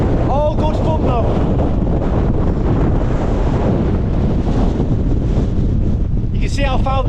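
Gale-force wind roars across the microphone on a fell in the Langdales in the Lake District, loud, constant and buffeting throughout, with brief bursts of human voices calling out beneath the gusts.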